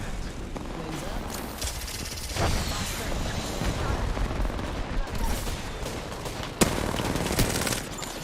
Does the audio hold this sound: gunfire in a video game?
yes